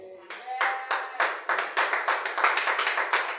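A church congregation at a Sunday service claps together in a steady rhythmic beat. The claps are close and distinct, repeating at a brisk even pace for a few seconds.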